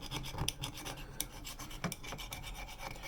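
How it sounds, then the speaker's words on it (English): A small flathead screwdriver scrapes an old gasket off a metal element base in quick rasping strokes, close and quiet, with irregular scratchy pulses and no talk. "I'm just using a little flathead screwdriver to get this gasket out of here"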